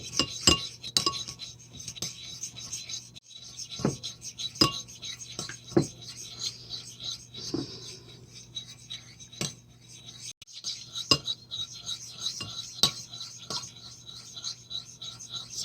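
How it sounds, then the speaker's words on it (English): A mixture stirred in a container during a CO2 and O2 gas experiment, light metallic and glassy clinks and scraping taps in an uneven rhythm, close and fairly quiet. "but just keep stirring."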